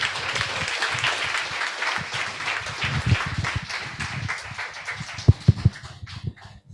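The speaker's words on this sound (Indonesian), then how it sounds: "Yuk sekali lagi tepuk tangan untuk Pak Thomas Jawan." A crowd at a motivational seminar applauds the speaker with a full, continuous wash of clapping, joined by a few low thumps near the end as people rise from their seats.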